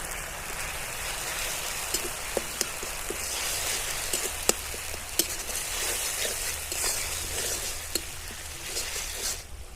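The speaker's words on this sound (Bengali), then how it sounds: "দু তিন মিনিট মতো মশলাটিকে খুব ভালোভাবে কষিয়ে নিয়েছি" Spice paste with ground cashew and coconut paste sautés in a pan, a steady close crackling sizzle scattered with sharp pops and occasional stirring clicks, with no talking.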